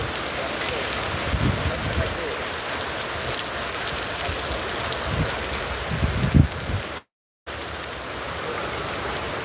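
Heavy rain pours down near Zaheerabad, a dense, steady hiss of downpour close by, with a few heavier spatters and a brief cut to silence near the end.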